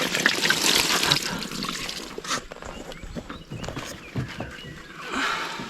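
Water splashes and trickles over a freshly caught carp in hot outdoor conditions, loud at first and then softer, with no voices.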